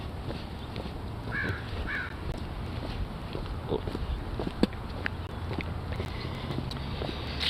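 A crow caws twice in the middle distance, short hoarse calls over a steady outdoor background hiss with scattered faint knocks and rustles.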